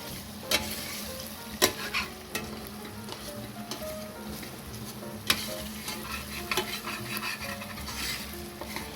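Onions frying in a pan are stirred, with a steady sizzle and scattered scraping clatters of the spoon against the pan, fairly close and with no one speaking.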